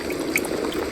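Water holding an insoluble salt is heated to a boil, giving a steady low bubbling and hissing with faint scattered pops, heard close and alone.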